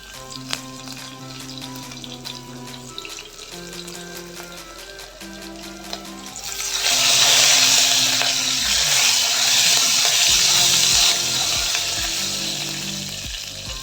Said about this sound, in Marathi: आणि बारीक कट केलेली मिरची घालून घेऊया